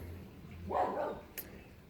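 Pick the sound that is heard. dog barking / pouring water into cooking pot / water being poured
dog barking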